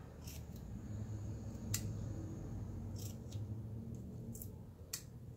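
Scissors snip off a strip of tape in a few quick, sharp cuts spread across a steady low background hum, close and fairly quiet, with no talking.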